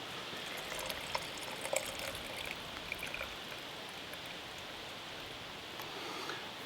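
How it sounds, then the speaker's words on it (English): Canned chicken broth pours into ramen in a steady, soft liquid stream, a close continuous trickle running the whole time with a few faint clinks and no talk. "So I'm going to pour the broth in there first."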